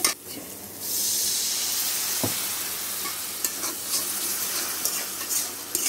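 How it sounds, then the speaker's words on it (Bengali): Chili, turmeric, coriander and cumin powders fry in oil in a pan, giving a steady close sizzle with occasional scraping and clinks of a spoon stirring against the pan and no talking. "এখন একটু লবণ দিয়ে ভালো করে মশলাটা কষিয়ে নিতে হবে"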